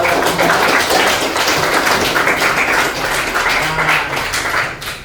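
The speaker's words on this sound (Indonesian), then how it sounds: "tepuk tangan dulu buat" Classroom audience clapping together after a lesson, a steady dense patter of many hands that fills the whole stretch at close range and tapers slightly at the end.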